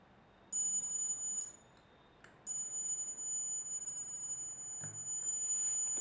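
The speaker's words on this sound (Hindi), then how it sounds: "अभी आप देख रहे हैं बजर भी मैंने कनेक्ट कर दिया है एलईडी के पैरेलल में" A DIY digital light sensor circuit with a buzzer wired in parallel to its LED sounds a steady high-pitched electronic tone, cutting out briefly before resuming and continuing over faint background hiss.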